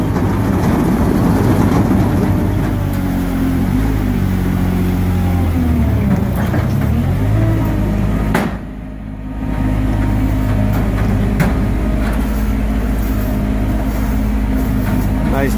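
A Mobitrac tracked carrier drives up onto a trailer, its engine drone and track rumble running steadily with a brief dip partway through, while people talk faintly in the background.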